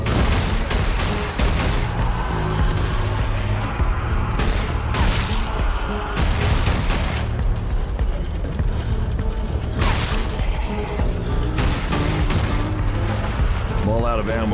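Grenade blast amid heavy gunfire in a zombie shooter set in Venice, with dense rapid shots and sharp bangs running without a break, loud and close throughout.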